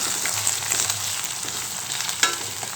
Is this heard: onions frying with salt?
yes